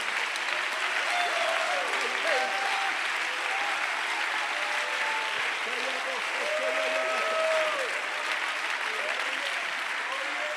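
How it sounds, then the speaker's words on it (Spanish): A church congregation claps steadily and loudly throughout, with voices singing or calling out over the dense, continuous applause. "aplauso al Señor si lo cree"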